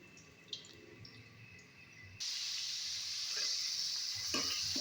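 Onions sautéing in a pan, a soft, steady close sizzle that grows suddenly louder and brighter partway through, with faint clinks of stirring and no talk.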